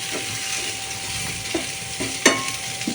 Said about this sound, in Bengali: উচ্ছে ভাজা করছি এই প্রখর তাপে